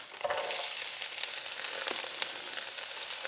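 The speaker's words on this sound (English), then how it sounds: "I'm just going to get that in there to saute" A medium onion sautéing in a pan, a steady close hiss and sizzle with faint crackles and occasional stirring scrapes, with no talking over it.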